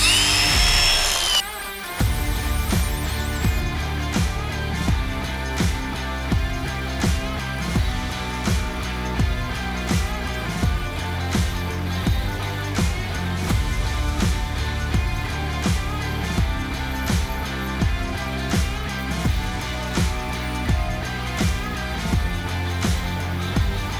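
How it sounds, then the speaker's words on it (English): An angle grinder fitted with a shaping wheel works a piece of wood, a loud continuous high whine with a rhythmic pulsing grind as the wheel bites repeatedly, running steadily throughout without speech. "I'm gonna use an angle grinder with a shaping wheel."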